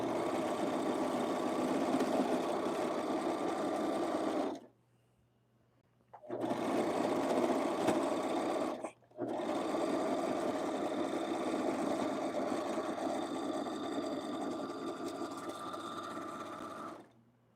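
An electric sewing machine stitching a t-shirt runs in a steady, fast mechanical whir. It stops twice, briefly and then very briefly, before running on continuously, close and fairly loud.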